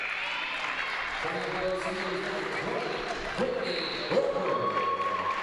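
Crowd applause in a gym at a women's college basketball game, a moderate, fairly distant spatter of clapping running under an announcer's talk and court noise.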